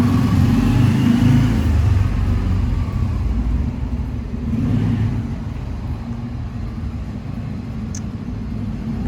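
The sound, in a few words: car accelerating as the driver presses the gas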